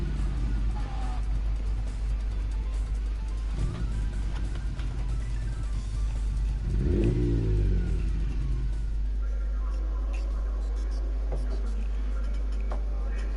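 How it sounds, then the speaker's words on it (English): A race car engine in GT Sport drones steadily as the car accelerates, swelling into a rising rev around the middle, loud and continuous throughout. "So we've got fantastic engine notes, that's for sure."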